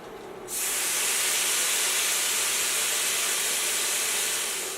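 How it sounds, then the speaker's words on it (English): Bacon sizzling in a pan while its fat renders for a rice stir fry, a loud, steady broadband hiss that starts suddenly after a short quiet moment and keeps going evenly throughout. "put in my bacon, and we need to render the fat from this bacon"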